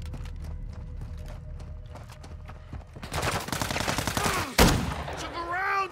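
Gunfire in a Call of Duty Warzone DMZ match: quiet footsteps give way to a dense, loud burst of automatic shots with one sharp blast, followed by a rising whine, with some talking.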